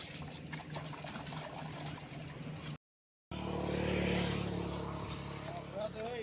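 Water trickles and pours steadily, broken by a brief silent gap, then resumes with a fuller gush; faint voices sound in the background.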